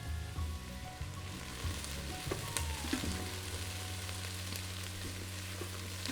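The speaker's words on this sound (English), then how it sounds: "let those saute for about 5 minutes" Vegetables sautéing in a pressure cooker pot before deglazing, a steady low sizzle with occasional soft clicks and scrapes, moderately quiet and continuous with no talk.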